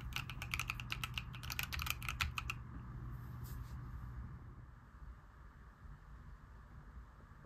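A Keychron Q4 Pro mechanical keyboard with GMK keycaps gives a quick run of soft clacky keystrokes for about two seconds, followed by a few faint clicks and then quiet room hiss.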